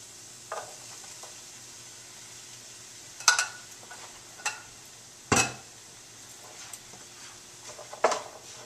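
Black beans being stirred in a hot pan over medium-low heat, a soft steady sizzle broken by a few sharp scrapes and clinks of the utensil against the pan, close and fairly quiet with no talking.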